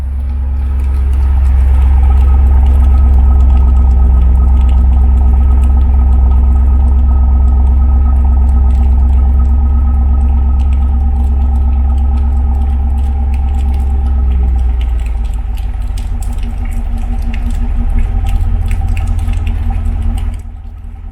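A bone-stock project vehicle's engine idles low in the 600s rpm, a steady loud rumble with faint clatter running throughout, easing slightly in level near the end, with no talk.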